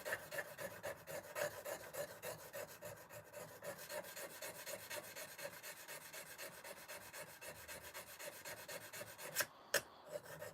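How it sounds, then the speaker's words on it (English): Steady rasping strokes of a wood carving chisel being sharpened, a continuous rhythmic rubbing that runs throughout at moderate distance, with a couple of sharper clicks near the end. "Just sharpening this chisel."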